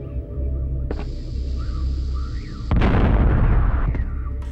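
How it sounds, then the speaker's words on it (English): A bomb blowing up in the PlayStation game Lode Runner: The Legend Returns, a sudden loud burst of crunchy noise cutting in over a steady game tune with bleeping melody, then trailing off. "blow them to smithereens with a bomb"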